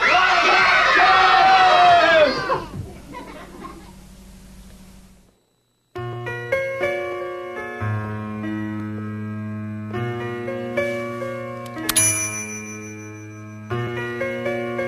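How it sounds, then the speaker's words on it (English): A group of children yells together in a loud burst of shouting that fades out, followed by a short silence and then a light tinkling musical tune. "When I count three, let's all yell, wake, yeah, we'll yell, wake up Jeff."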